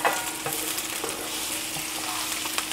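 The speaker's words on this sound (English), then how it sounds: "brown the garlic, add the onion, half of the onion" Garlic and onion sautéing in a pan for kare-kare, a constant bright sizzle with light crackle and occasional soft stirring taps, close and moderately loud, no talking.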